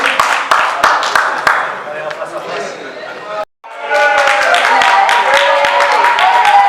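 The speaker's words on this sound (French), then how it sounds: "On peut l'applaudir." Crowd applause and cheering for a 115-kilo super-heavyweight kickboxer at a kickboxing fight-signing event, loud and sustained with chatter mixed in, broken by a brief gap before resuming fuller.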